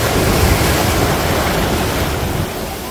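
Ocean waves breaking at Clear Water Bay, a steady, loud broadband roar of surf with continuous wash and wind, close to the microphone and with no voices.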